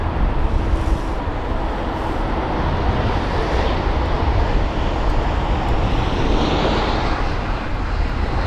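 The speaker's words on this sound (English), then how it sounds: "So this is one of 3 aircrafts, or 3 A320neos up for arrivals." A Lufthansa A320neo airliner arriving at London Heathrow roars steadily and loudly, a broad sustained engine rumble with wind buffeting that holds strong throughout without any talk.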